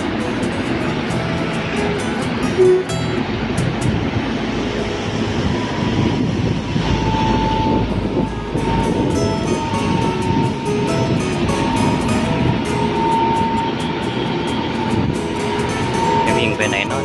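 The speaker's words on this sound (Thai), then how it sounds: "เสียงของรถไฟฟ้า" An electric express train runs through Bang Sue junction in Bangkok, a loud, continuous rumble and roar with steady mechanical whine, sustained throughout without pause.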